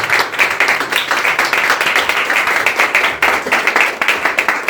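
A church congregation applauds after a Bible reading from First Thessalonians, loud sustained clapping from many hands filling the room evenly with no voices over it.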